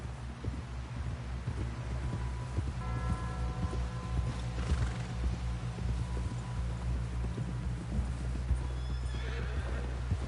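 Horse galloping in Red Dead Redemption 2, a steady rapid clip-clop of hooves with snorts and whinnies, close and continuous over a low ambient hum with no talk.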